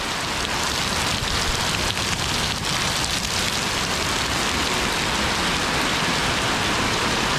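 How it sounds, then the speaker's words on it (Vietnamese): Heavy rain pouring down in Binh Duong, Vietnam, a dense continuous hiss of drops striking surfaces, steady and close throughout with no voices. "Rất là hiếm cái cơn mưa như thế này."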